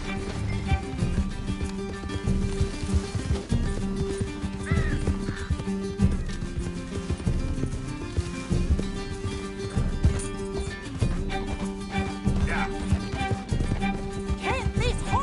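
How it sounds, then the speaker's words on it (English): Galloping horse in the video game Red Dead Redemption 2, rhythmic hoofbeats running steadily through a busy game mix with music and characters shouting over them. "Can't this horse go any faster?"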